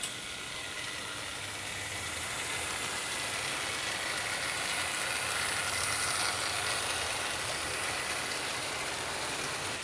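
A small model locomotive pulling empty freight wagons rumbles and clatters steadily along its track, a continuous close mechanical whirr with rattling wagons, no voices.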